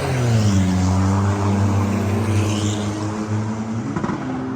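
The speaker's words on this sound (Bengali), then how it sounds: "এটা গাড়ির সাইলেন্সারের আওয়াজ।" A car idles and revs near a Thailand petrol pump, its exhaust giving a loud, steady low droning rumble that shifts slightly in pitch before easing off, close by, with no speech.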